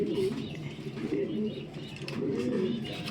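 Pigeons in a breeder's loft coo in soft, repeated low burbles throughout, close by, with a voice talking over them in places.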